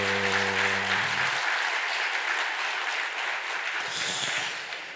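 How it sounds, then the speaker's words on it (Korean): Congregation applause during a Sunday church service, a dense wash of clapping that starts right after a sustained music chord fades and carries on evenly for several seconds. "힘차게 박수."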